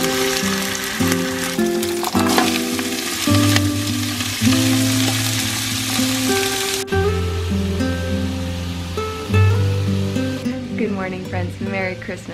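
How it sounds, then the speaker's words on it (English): Onions caramelizing low and slow in a pan for Christmas gravy give a steady, continuous sizzle and crackle that runs beneath loud music throughout. "The onions are going to caramelize, so low, slow."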